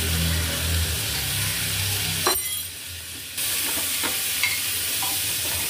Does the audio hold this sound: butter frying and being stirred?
yes